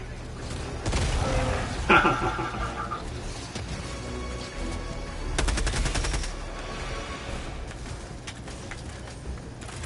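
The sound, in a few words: grenade explosion and gunfire in video game Helldivers 2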